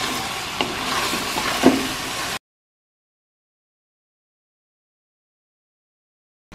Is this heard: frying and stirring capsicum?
yes